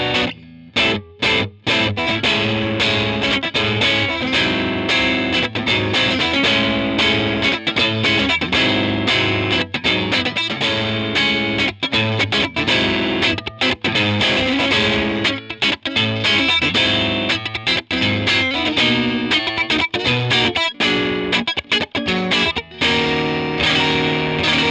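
A Fender Jaguar electric guitar through a vintage EarthQuaker Devices effects pedal is played continuously: thick, heavily processed chords and riffs, loud and dense, with brief choppy pauses early on.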